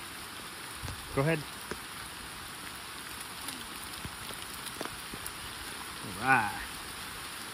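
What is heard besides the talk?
raindrops falling on the camera in El Yunque rainforest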